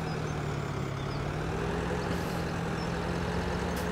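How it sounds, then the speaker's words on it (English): A tractor engine drones along in Farming Simulator 17 on the Somewhere In Thuringia map. It makes a steady, loud, low rumble with a constant idling-like hum throughout and no voices. "I'm going to use this tractor to drive around a little bit."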